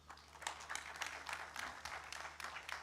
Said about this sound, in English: Allow the applause, please.